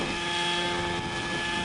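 A computer-controlled helicopter flying aerobatic maneuvers over a football field gives off a continuous, buzzing rotor and engine drone, steady and fairly loud with some wind noise.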